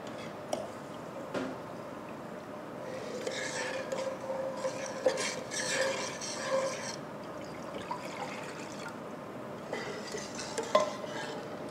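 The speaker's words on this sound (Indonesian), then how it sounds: "Lalu kita aduk rata." A spoon stirs granulated sugar and agar-agar powder together in a pot for a pudding. The scraping and swishing are soft and continuous, with a few light clinks against the metal.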